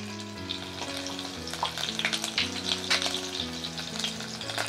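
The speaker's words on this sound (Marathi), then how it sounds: "आता तेल छान तापलेलं आहे, त्यात आपण जिरे घालू" Cumin seeds and chilies sizzle steadily in hot oil as sabudana khichdi begins cooking for a fast, the crackle dense and fairly loud, with low background music tones running underneath throughout.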